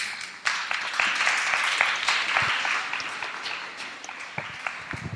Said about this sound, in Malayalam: എഴുന്നേറ്റ് കൈയടിക്കണം.